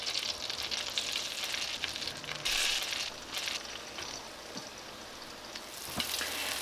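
Steady sizzling of floured squash slices frying in a pan, a continuous bright crackle with small pops and spatters, close and fairly quiet with no talking.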